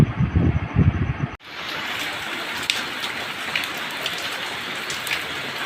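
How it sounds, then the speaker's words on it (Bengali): Steady rain falls all around, a constant broadband wash with scattered drop patters, heard alone after a brief muffled start. "শুধু চারিপাশে কনস্ট্যান্ট বৃষ্টি পড়ার শব্দটা শোনো।"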